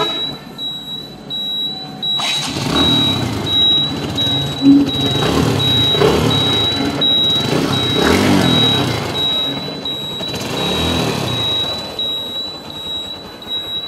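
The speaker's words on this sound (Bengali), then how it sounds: "এই যে তো গাড়িটা এখন একটু স্টার্ট করে শোনাবো আপনাদেরকে।" A TVS Stryker 125cc motorcycle engine catches about two seconds in and then runs steadily, with a loud, close, rumbling idle and no voices.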